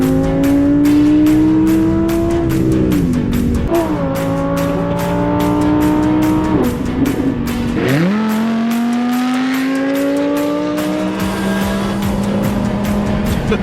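Audi R8 V10 RWS engine revving hard toward 8,900 RPM, a loud close wail that climbs and drops repeatedly through gear changes, with a deep growl between the high-pitched pulls.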